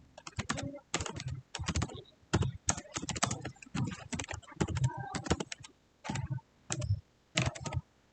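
Computer keyboard typing during a Python cybersecurity coding lesson, with bursts of rapid keystrokes separated by short pauses, close and fairly loud, with no talking.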